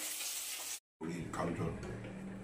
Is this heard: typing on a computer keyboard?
no